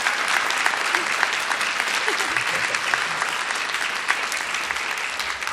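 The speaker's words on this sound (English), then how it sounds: "Can we get a round of applause for..." A panel audience at TwitchCon Las Vegas 2023 breaks into dense, sustained applause, many hands clapping loudly and evenly throughout with a faint murmur of crowd beneath.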